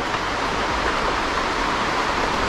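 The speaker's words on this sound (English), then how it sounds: "I think this is just a river." A river rushes steadily on Biliran Island in the Philippines, a dense, unbroken wash of flowing water that stays loud and even from start to finish with no talk.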